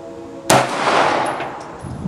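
A single sharp gunshot from a TriStar C100 pistol fired at a target, loud and close, with a short reverberant decay afterward.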